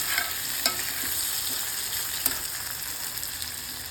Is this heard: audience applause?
no